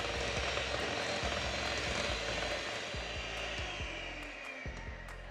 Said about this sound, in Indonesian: Sekarang kita mixer sebentar campuran margarin sampai lembut